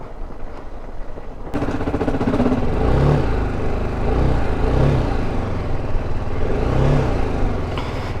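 A touring motorcycle's engine catches after a quiet moment and settles into a loud, steady running note with several rhythmic revs rising and falling, close by, with no voices.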